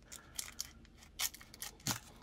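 A few quiet, irregular snips and crinkly cuts of scissors through basketball trading card packaging, sparse and close by in a quiet room.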